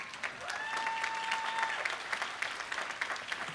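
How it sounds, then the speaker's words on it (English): Audience applause at a university undergraduate commencement ceremony, a steady wash of clapping from a large crowd held for several seconds, with a brief tonal whistle-like sound partway through. "we'll give you a round of applause"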